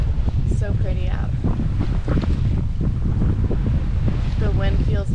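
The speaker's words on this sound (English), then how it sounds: "The wind feels amazing." Strong wind buffets the microphone on a sailboat at sea, a constant roaring gust with water noise beneath, while a person talks intermittently over it.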